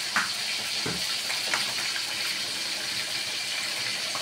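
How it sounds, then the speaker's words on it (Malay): Water pours into a cooking pan while a soy sauce dish is prepared, a steady splashing, gushing stream close by, continuous for several seconds with no talking. "Lepas tu kita letakkan air. Air sikit."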